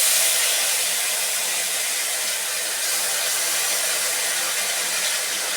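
Onion paste frying in hot oil that already holds bay leaf, dried red chilli and whole cumin, for a Bengali rohu fish curry. It gives a loud, steady, broad sizzle that runs unbroken and alone, with no talking.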